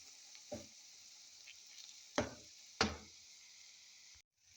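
An egg and eggplant omelette with coriander leaves and garlic chives frying in a pan, a faint steady sizzle broken by a few sharp utensil knocks and scrapes.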